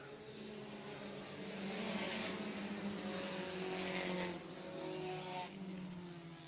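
Race cars roar around the oval at Airborne Speedway in Plattsburgh, New York, their engines droning and swelling as the pack passes at a distance, with no voices.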